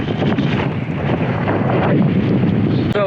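Strong wind buffets the microphone on a hilltop at Saltburn above the pier and cable cars, a steady, loud roar of gusts for about three seconds with no talking.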